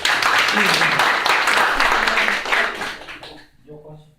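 Audience applause at a startup pitching and networking event, dense warm clapping from a seated crowd that holds steady, then fades out as a voice starts speaking.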